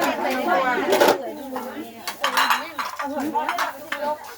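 Dishes and pots clatter and clink as they are handled and gathered at a merit-making festival gathering, with bright knocks and scrapes recurring throughout while voices talk over the rattling.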